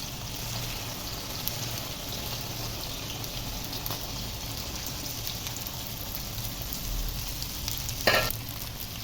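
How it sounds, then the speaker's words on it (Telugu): Okra pieces sizzle and fry in hot oil in a home kitchen pan, a steady hissing crackle throughout with a brief louder burst near the end, no voices. "ఇదే ఆయిల్లో బెండకాయలు వేసుకోవాలండి, బెండకాయ ముక్కల్ని. సో నేనైతే వేసేస్తున్నాను."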